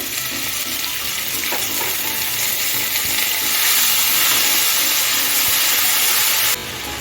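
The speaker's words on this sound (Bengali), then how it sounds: "কারি পাতাটাকে একটু ভেজে নিচ্ছি" Curry leaves frying in a pan with sesame seeds, a steady loud sizzle and hiss that swells midway, then drops abruptly near the end as water is added.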